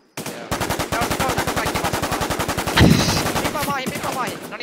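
Rapid automatic gunfire in the video game Infestation, a steady rattling burst of dozens of shots that runs almost unbroken for over four seconds, loud and close, with a heavier blast partway through.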